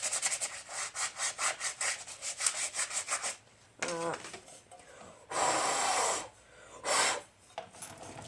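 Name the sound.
sanding a part for a CRF70 pit bike build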